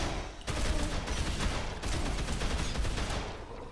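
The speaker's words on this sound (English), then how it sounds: "I'll just shoot you myself" Dense, rapid automatic gunfire in the Dead Island Definitive Edition video game: a sustained burst of loud, overlapping shots that starts after a brief pause and runs almost continuously to the end.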